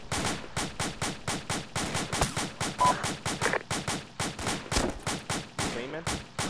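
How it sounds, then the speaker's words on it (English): Rapid bursts of suppressive automatic gunfire in a first-person shooter video game, repeated sharp shots in a steady fast rhythm throughout, with faint voice chatter underneath. "I'm going to provide suppressive fire while you snipe him"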